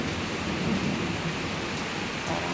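Heavy rain pours down steadily with a low rumble of thunder beneath it, dense and loud throughout.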